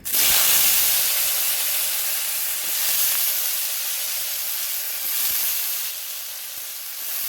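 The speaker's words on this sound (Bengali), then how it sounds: "এবার আমি ওই তেলেতেই আলুটা তুলে দেবো।" Potatoes fry in oil already used for snake gourd in a wok, giving a loud, continuous sizzling hiss that swells and eases slightly, with no voices.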